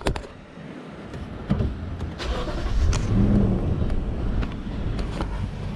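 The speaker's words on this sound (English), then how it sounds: "Okay, the truck started." A Lexus GX460 truck engine cranks and starts, a brief starter burst followed by a low steady idle rumble with some faint rattles, heard close by from inside the vehicle.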